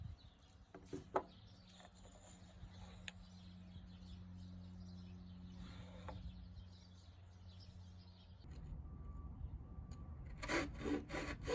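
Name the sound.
hand saw cutting a wooden mallet handle tenon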